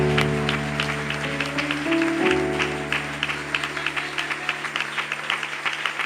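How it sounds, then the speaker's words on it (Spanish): A church congregation claps with sharp, rhythmic hand strikes over sustained keyboard or organ chords, the clapping growing steadier and more regular toward the end. "Dele ese mejor aplauso para el Señor."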